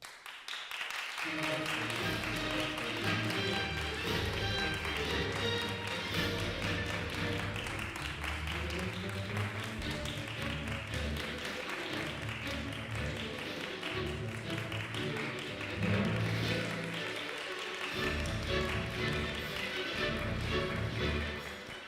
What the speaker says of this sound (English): Please stand up and give them warm applause